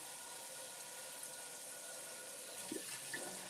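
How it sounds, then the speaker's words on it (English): Water runs into a cooking pot at a kitchen sink, filling it before it goes on to boil: a steady, faint hiss of flowing water with a couple of brief splashy bumps near the end. "I'm just filling up the pot with water, and then we're going to get it boiling."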